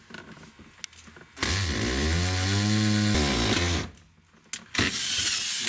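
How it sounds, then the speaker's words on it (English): A power drill spins up and bites into a pilot hole while a rear center console is mounted in a Camaro or Trans Am, a loud rising whine that holds for about two seconds, stops, then returns briefly. "taking my drill bit and I'm going straight down"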